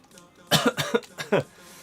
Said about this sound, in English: I just have a grim cough